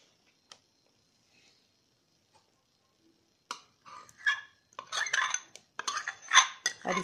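Thick almond firni being stirred in a pot, heard as a near silence with a few isolated ticks, then repeated close scraping and knocking of a spoon against the pot in uneven bursts.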